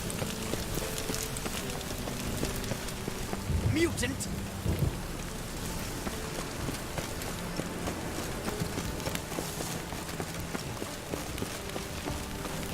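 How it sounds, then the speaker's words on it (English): Steady rain with low rumbles of thunder in The Witcher 3 video game, a constant wash of downpour throughout, with a brief louder burst near the middle and a short spoken exclamation. "I like rain. Keeps the roads indoors."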